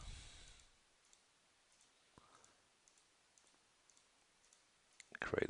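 Computer mouse clicks during a Maya 2014 modelling session, a few faint, sparse ticks spaced apart over quiet room tone, with a louder burst of noise at the end.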